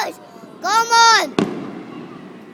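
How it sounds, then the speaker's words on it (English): New Year 2013 fireworks: a rising whistling shriek ends in one sharp, loud bang, then a fading crackling rumble, with a brief voice at the very start. "Oh, fireworks."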